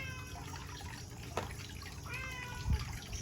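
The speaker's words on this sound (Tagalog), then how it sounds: "Pakainin natin tong mga pusa." Cats meow softly at feeding time, with a couple of faint, drawn-out cries in the second half over quiet indoor background noise.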